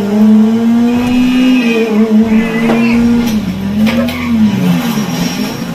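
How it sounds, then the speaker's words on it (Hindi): Drifting car in the mobile racing game Nitho Drive Pro V16: a steady, loud engine drone with pitch swells and slides as the car revs and slips, holding continuously with faint tire squeal hints throughout. "ड्रिफ्ट"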